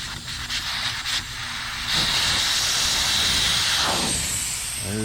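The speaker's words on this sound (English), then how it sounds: "take the valve out, and let the air out of the tire" Air hisses loudly and steadily out of a lawn tractor tire through its open valve stem, a close, continuous rushing hiss that carries on for several seconds with faint handling noise and no talk.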